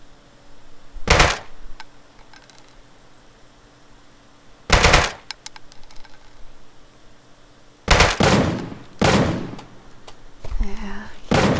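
Gunfire in the survival shooter Deadside: four loud, sharp bursts of shots, the last two close together, separated by quiet stretches of low game ambience.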